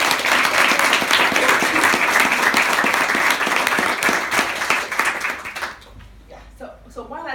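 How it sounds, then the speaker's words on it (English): A live audience at a Dublin launch event breaks into a big round of applause, dense and steady clapping that fills the room for several seconds before thinning out, with scattered voices heard as it fades. "Can we give her a big round of applause?"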